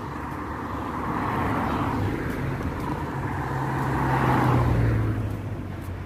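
Cars pass on a road in a steady rush of traffic, engine and tire noise swelling and fading as vehicles go by close to the listener, with wind buffeting throughout.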